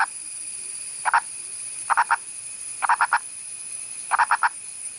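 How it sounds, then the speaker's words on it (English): Purple pig-nosed frog croaking in quick bursts of three or four calls, repeated four times over a steady background hum, fairly close and loud. "The males use loud, sexy croaks to woo their female counterparts."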